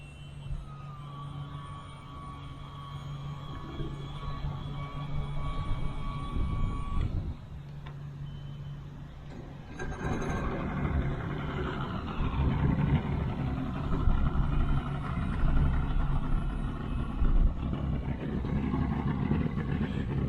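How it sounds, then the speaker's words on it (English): A Mercury Racing 300R outboard engine on a boat in a canal idles with a steady tonal hum, then shifts to a rougher, louder running drone after a brief pause, continuing throughout without speech. "Came to the canal just so I can turn on the engine and make sure that it's not overheating."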